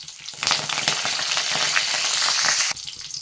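Curry leaves dropped into hot oil with mustard seeds and dried red chillies, a loud, bursting sizzle with crackling spits that cuts off abruptly near the end, no voices.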